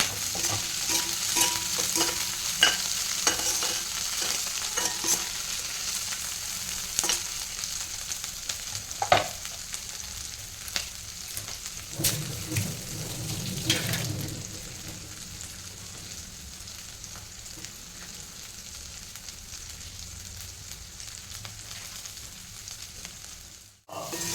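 Finely chopped green chillies fry in a pan for sabudana khichdi, giving a steady soft sizzle. Scattered utensil scrapes and taps punctuate it, with a brief louder scrape midway, and the sound cuts off abruptly at the end.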